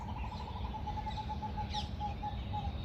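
An owl calls in a thin, steady series of soft, evenly spaced notes that carry faintly over a constant low background hum, with one brief brighter rustle midway.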